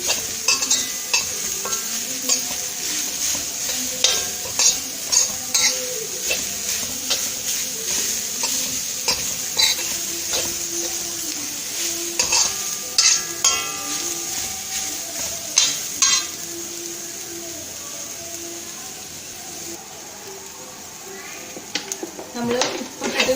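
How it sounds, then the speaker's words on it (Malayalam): Tender jackfruit stir fry, Kerala-style idichakka thoran, being stirred in a pan: a constant sizzle with repeated scraping and clinking stirring strokes close up, and a voice speaking now and then. "ഇനി നമുക്ക് ചക്ക ചേർത്ത് കൊടുക്കാം. നന്നായി ഇളക്കി കൊടുക്കാം."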